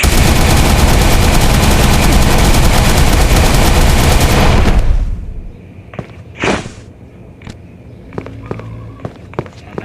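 Loud, continuous rapid gunfire in the video game Jurassic Survival roars for several seconds, then cuts off, leaving a few faint scattered clicks and a single sharp burst.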